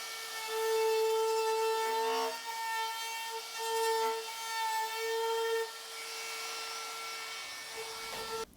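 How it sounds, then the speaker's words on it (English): Router fitted with a round-over bit running along the edges of a wooden farmhouse table top, a loud steady whine with shifting pitch as the cut bites, continuous and close before winding down at the end. "take the router with a round over bit in it and round over the top"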